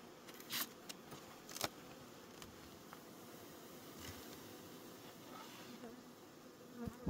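Honey bees buzzing around an outdoor double brood box hive after syrup feeding, a faint steady drone with a few closer, louder passes of individual bees.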